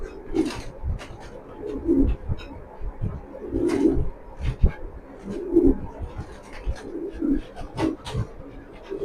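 Racing pigeons coo steadily nearby in repeated low, throaty phrases spaced every second or two, with faint rustling and no speech.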